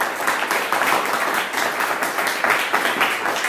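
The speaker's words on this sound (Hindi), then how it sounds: "सर के लिए जोरदार ताली बजाइए परमेश्वर यादव जी के लिए," A seminar audience in Indore claps loudly and steadily for a speaker, with dense, sustained applause that fills the whole stretch without a break.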